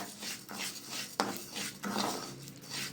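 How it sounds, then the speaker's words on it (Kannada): Sago pearls frying in ghee in a pan that already held roasted cashews and raisins, heard as steady scraping and clinking of a spoon against the metal pan with soft rustling stirs and one sharp tap. "ಗೋಡಂಬಿ ದ್ರಾಕ್ಷಿ ಹುರಿದಿರುವಂಥ ತುಪ್ಪಕ್ಕೆ ಸಬ್ಬಕ್ಕಿ ಹಾಕ್ತಾ ಇದ್ದೀನಿ"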